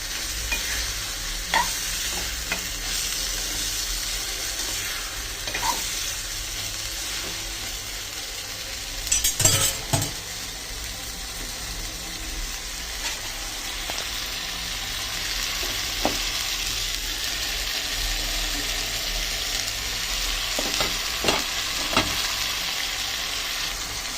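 Chicken pieces frying in a pan for a chicken dish, a constant close sizzle with steady stirring scrapes and one louder clatter of the utensil.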